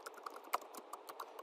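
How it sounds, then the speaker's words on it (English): Keys on a computer keyboard are tapped in a quick irregular run of soft, close clicks, one stroke louder than the rest. "like if I typed"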